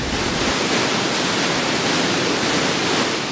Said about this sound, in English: Water flows through this tunnel at speeds up to 950 cubic feet per second.